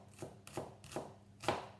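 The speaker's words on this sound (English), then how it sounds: "because the onion has natural layers, it means I don't have to work that hard to chop up my onion" A knife chops through an onion on a board in four distinct, evenly spaced strikes, soft and close, each a short crisp thud.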